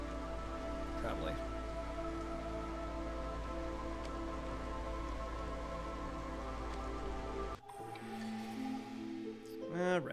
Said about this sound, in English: It's drizzle season.